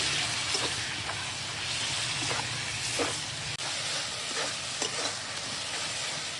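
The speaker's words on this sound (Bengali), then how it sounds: "দিয়ে এখন মশলাটা কষাবো" Spice masala with turmeric, chili powder, Kashmiri chili powder, salt and tomato stir-fried in a pan, a continuous soft sizzle with repeated scraping strokes of the spoon at an even pace.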